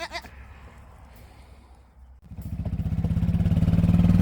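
Goats bleat close by at a family farm, a few sharp cries at the start followed by a loud, rising, buzzing rattle that grows steadily toward the end, with no speech.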